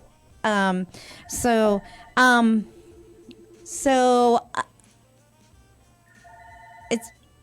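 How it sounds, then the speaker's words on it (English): A telephone rings in short repeated bursts between stretches of talk, with a few electronic tones near the end. "my phone's ringing, guys"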